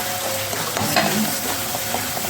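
Masala paste with red chili powder and turmeric sizzles and crackles in hot oil in a pan, with occasional stirring scrapes, close up and steady.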